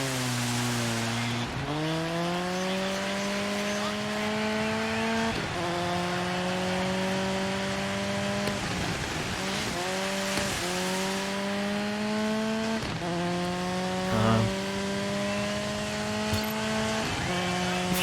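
Classic Volkswagen Polo rally car in the DIRT 5 racing game, its engine droning and revving through repeated gear shifts, pitch climbing and dropping steadily for the whole stretch with no talk over it.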